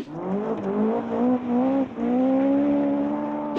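A Ford Escort rally car with an engine of more than 250 horsepower, loud and close, revving hard with rising pitch sweeps as it climbs through gears and briefly drops between shifts, no voices.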